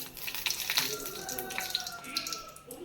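Dried chillies frying in about a tablespoon of coconut oil in a pan, a soft crackling sizzle with scattered pops and hiss, fairly quiet and close, with faint background tones and no clear talk.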